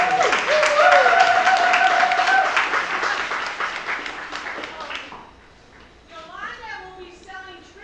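An audience at a women's summit applauds loudly for several seconds, the clapping fading away as a voice begins speaking over the room.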